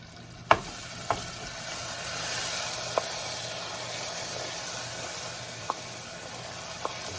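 Butter melts into hot, amber caramelized sugar in a pan, giving a steady, close sizzling hiss punctuated by a few sharp clinks of a utensil against the pan.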